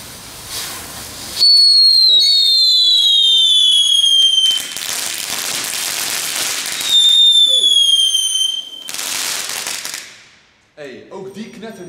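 Whistling fireworks from a cardboard-based firework fire twice, each a loud high rising-falling whistle trailing into a burst of crackling noise, with a fainter crackle at the end.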